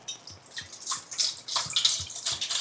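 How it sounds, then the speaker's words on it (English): Water poured into a bowl of chicken marinade for a homemade fried chicken recipe, a short, close splashing pour that builds and swells over a couple of seconds. "Add water"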